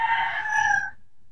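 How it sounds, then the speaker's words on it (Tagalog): A rooster crows once, loud and near, a single drawn-out call lasting under a second before breaking off into quiet background. "marami pang manok si Congressman Tevez ah"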